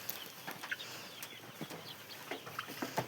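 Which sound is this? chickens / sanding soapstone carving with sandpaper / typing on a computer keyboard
chickens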